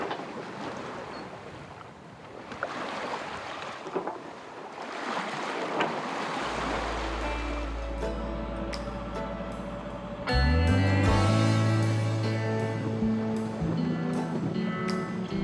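Ocean swell and waves wash around a sailboat on the Atlantic under a big low-pressure system with little wind, first a broad steady rush, then a loud, low tonal drone joins and swells, with wind buffeting the microphone.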